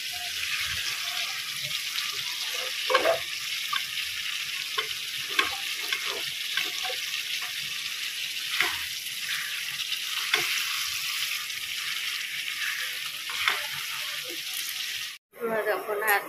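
Pointed gourd (potol) curry cooks in a pan in a home kitchen, giving a steady sizzle and bubbling with occasional clinks and water sounds, while a voice talks over it and a brief sharp break interrupts near the end.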